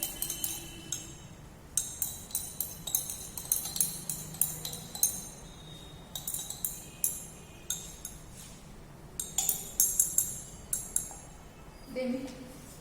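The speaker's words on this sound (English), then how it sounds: "By stirring, you can dissolve it." A glass stirring rod clinks repeatedly against a glass beaker while lead nitrate crystals are stirred into solution, giving steady light taps and chinks across the whole stretch, close and fairly clear over low background noise.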